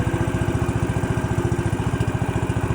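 A faulty fishing boat engine chugs in a fast, regular, heavy thumping rhythm, loud and near, with no voices over it.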